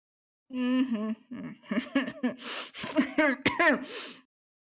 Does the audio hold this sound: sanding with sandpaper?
no